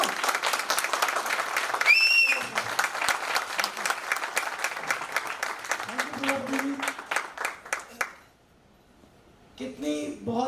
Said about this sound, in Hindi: एक बार हमारे प्रजापति जी के लिए जोरदार तालियां।